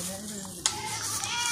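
A goat newly arrived at a farm bleats briefly amid a man's speech and some background rustle, one short call up close.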